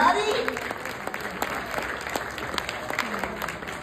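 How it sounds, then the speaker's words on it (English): A studio audience claps and cheers as a 70-year-old grandfather named Jimmy is brought to center stage. Scattered, lively applause with crowd noise tapers off while a host talks over it. "Give him a big round of applause."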